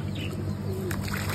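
Pigeons on a rooftop bird setup coo softly through steady background noise, with low murmuring calls and faint chirps over a constant hum, and no one speaking.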